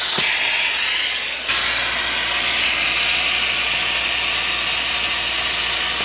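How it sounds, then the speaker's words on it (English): A fluid extractor sucks leftover coolant out of a head bolt hole in the cylinder head of a Mercedes C63 M156 engine, a steady loud hissing, slurping draw that runs nearly unbroken throughout. "you can see it's sucking a good amount of coolant out of there"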